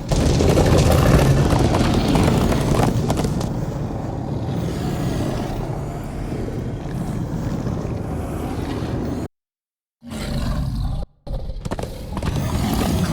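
Horses gallop in a Minecraft Story Mode game scene, a loud, steady rush of hooves and wind that drops out abruptly twice near the end before resuming.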